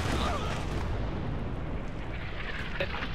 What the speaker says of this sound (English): I thought I heard a grenade.